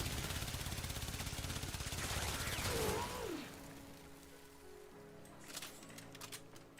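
Gunfire in the video game Warframe: a dense, rapid automatic volley for about three seconds, then quieter in-game ambience with a few scattered sharper shots.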